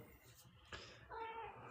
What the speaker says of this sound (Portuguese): Se vocês escutarem aí algum miado, é porque o gatinho tá aqui hoje